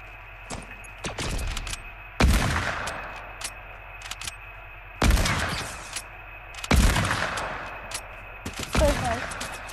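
Rapid bursts of drum gun fire in a Fortnite match, several loud fusillades of automatic shots separated by short pauses, with players talking over the action.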